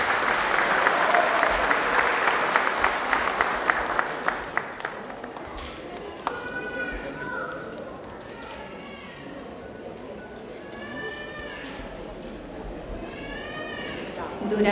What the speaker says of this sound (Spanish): repetimos ese cariñoso y fuerte aplauso